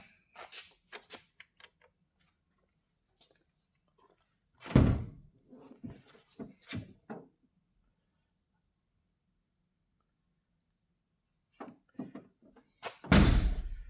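A race car door with new door seals shuts in a garage, giving a loud, dull slam near 4.7 s and another near 13.3 s, with quieter handling clunks and rattles between and near-silence in the middle.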